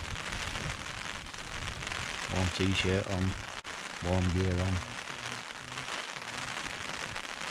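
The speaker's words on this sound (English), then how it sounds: "As you can no doubt hear, it's back to raining again." Rain patters steadily on a tent pitched on a hillwalking camp in the Lochnagar area of the Scottish Highlands, a constant soft hiss running beneath someone talking close by.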